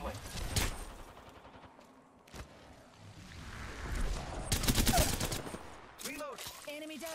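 Bursts of rapid gunfire in the video game Apex Legends, several volleys of shots at moderate loudness mixed with game effects and a voice speaking over the action.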